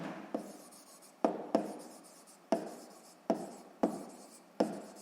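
A pen writes on paper during a sixth-grade math exercise, making about seven short scratchy strokes in a steady rhythm, each starting sharply and fading, with no talking.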